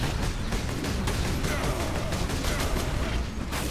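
Dense, continuous gunfire and combat noise from the Warhammer 40,000: Space Marine video game, loud and steady throughout with bursts of shots blending into a constant roar.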